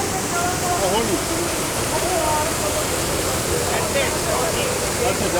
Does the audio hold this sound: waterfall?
yes